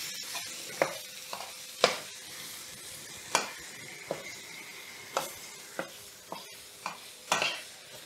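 700 grams of minced pork sizzling in a hot wok for mapo tofu, with a steady frying hiss punctuated by regular sharp scrapes and clinks of a spatula stirring, close and alone.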